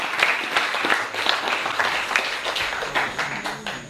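A congregation at a revival meeting in Taravao, French Polynesia, applauding in a dense, continuous patter of many hands, moderately close, with faint voices underneath.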